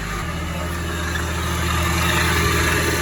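A car engine idles steadily with cooling fans whirring, a constant low rumble and broadband rush that swells slightly toward the end; the car is a flood-damaged vehicle running with the air conditioning on.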